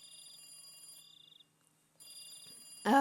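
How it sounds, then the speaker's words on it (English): A telephone rings in the Higurashi visual novel with a bright electronic trilling tone in two bursts, then another after a short silent gap, before a louder jingle-like sound cuts in at the end. "Right then, the phone rang."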